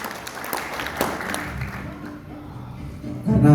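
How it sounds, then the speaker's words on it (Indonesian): Audience applause at a barbering battle event: scattered clapping from a modest crowd, moderately loud, tapering off midway, with a voice and background noise picking up at the end. "Beri tepuk tangan untuk Bang Irwandi."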